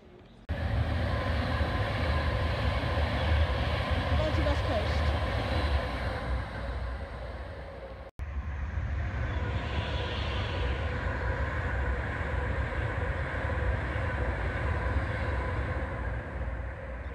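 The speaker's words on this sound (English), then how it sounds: "Another Avanti West Coast class 390." An Avanti West Coast Class 390 electric train passes close by at Kensal Green station with a loud, sustained rushing roar, briefly broken, then another rolling rumble that gradually eases.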